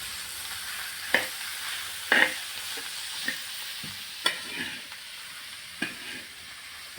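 Kurdu wild leaf vegetable mixed with onion is stirred on a tawa, with a soft steady sizzle under a handful of sharp, spaced spatula clacks against the metal.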